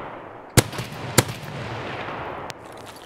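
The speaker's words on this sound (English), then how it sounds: "So I gave him two solid shots" Two sharp, loud gunshots ring out about half a second apart in the shooter game Escape from Tarkov, followed by a fainter distant crack, over a quiet ambient background.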